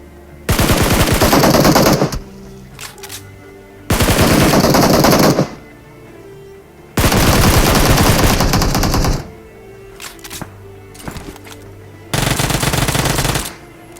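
Bursts of automatic gunfire in a battle royale video game: four long volleys of rapid shots separated by short quiet gaps, loud and close, with no talking.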